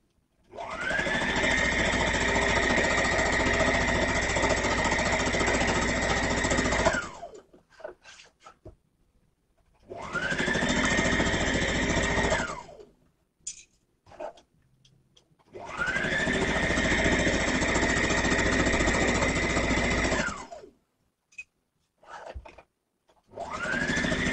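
A sewing machine stitches a skirt seam in three long, steady runs of several seconds each, a loud, even mechanical whir that starts and stops cleanly with quiet handling pauses between.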